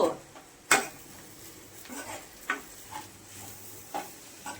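Egg fry being stirred in a pan at home, with a few sharp utensil scrapes and clinks against the pan over a faint background sizzle, separated by quiet gaps.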